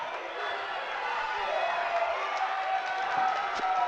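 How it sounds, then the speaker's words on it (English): Crowd cheering and clamoring at a school district championship track relay race, a steady, sustained roar of voices through the whole stretch with occasional claps and shouts rising above it. "Crowd really getting into this one."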